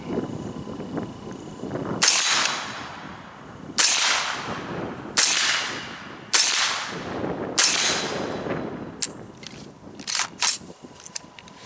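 Five loud, sharp shots from a Breek Sledgehammer LE gas gun ring out at even intervals, each with a short echoing tail, followed by a few lighter mechanical clicks.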